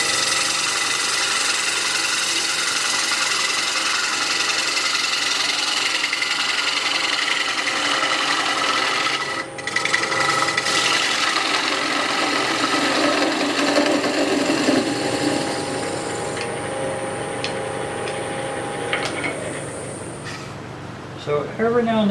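A wood lathe face-turns a blank of very dry wood, seasoned about three years in full sun, giving a continuous droning motor hum layered with a rough scraping hiss that eases slightly near the end.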